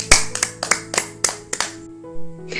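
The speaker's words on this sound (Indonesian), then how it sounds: "Mari kita tepuk tangan untuk teman kita Teresia" Primary school pupils in a third-grade religion class clap for a classmate, a series of about eight sharp, separate claps in an uneven rhythm that stops, followed by a faint tone and rustle.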